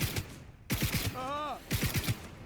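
A Shingen Mark V SMG in Cyberpunk 2077 fires rapid automatic bursts close up, a short burst, a pause, then two more rattling strings of shots, with a voice talking in the gap between bursts.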